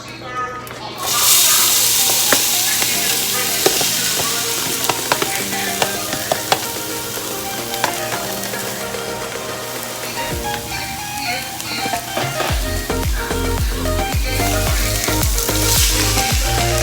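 Raw cauliflower rice hits a hot pan on the stove and sizzles loudly and steadily, close up, with occasional scraping and stirring, and a voice speaks partway through.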